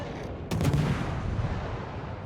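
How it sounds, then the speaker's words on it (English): Naval guns fire a broadside of shells at an island in World of Warships, with the Tashkent and other warships nearby: one sharp blast at about half a second, then a rumbling roar that fades slowly under the game's background noise. "You're shooting shells at the island."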